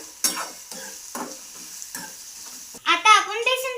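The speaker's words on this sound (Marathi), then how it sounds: "आता आपण कांदा टाकला आणि आता भाजून घेऊया।" Chopped onion frying in a kadhai for besan pithla, stirred with a few distinct scraping strokes over a soft sizzle, close and fairly quiet, with a brief voice near the end.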